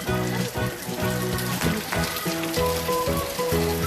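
Rain falls steadily on surfaces during an outdoor rain bath, a dense patter of drops heard up close with no voices.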